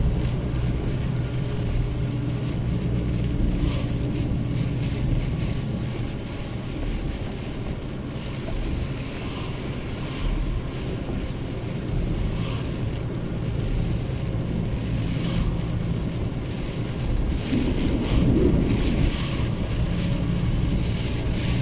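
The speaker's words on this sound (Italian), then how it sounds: "Acqua a vento" Steady roaring wind with broad rushing noise throughout, like a storm with heavy rain and gusts, loud and constant with no voices, at a motorway junction near Acerra, Italy.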